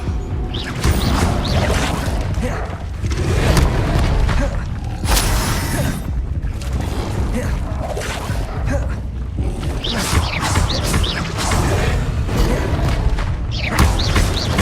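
An Incendio fire spell is cast in Hogwarts Legacy on PS5 amid loud, dense combat, with continuous bursts, crashes and thuds layered close together throughout.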